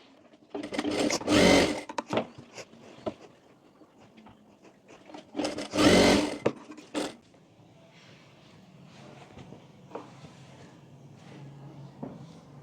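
A sewing machine stitches blouse lining in two loud, dense bursts of rapid needle clatter a few seconds apart, with quieter handling, rustling and clicks of fabric in between, close up and without talk.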